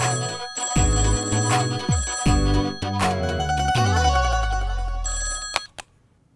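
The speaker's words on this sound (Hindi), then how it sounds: "फोन बज रहा है।" An old-style telephone bell rings loudly indoors in a run of repeated rings with short gaps, then cuts off, with no talk over it.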